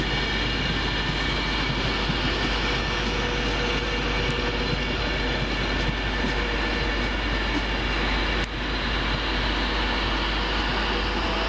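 A train rumbles past at Warrington, a steady loud roar of wheels and rail noise with faint clatter, continuous throughout with a brief sharp click near the end.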